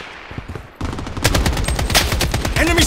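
Dense gunfire bursts from a Project BloodStrike firefight, rapid automatic shots that grow louder and continuous after a quieter opening, with a sniping AK-47 in play.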